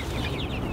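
Chickens in a chicken tractor set on grass cluck softly in a brief, steady, close stretch of low murmuring fowl sounds.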